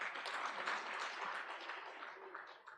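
Conference audience applauding, a sustained wash of many hand claps at steady loudness that tapers slightly toward the end, with no talk over it.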